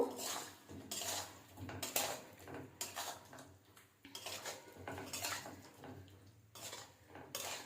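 Pots and pans clatter with metal utensil scrapes as boiled potatoes are mixed with spices in a pan for Kashmiri dum aloo, irregular bursts of scraping and clinking up close with short pauses.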